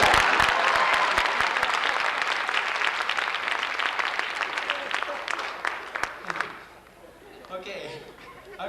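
Audience at a folk festival bursts into loud, dense applause with some cheering and chatter, sustained for several seconds before thinning out and dying down near the end.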